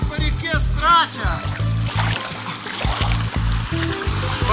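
Flowing river water splashes and trickles around kayaks during a rafting trip on the Stracha river, close and steady beneath loud talking voices throughout.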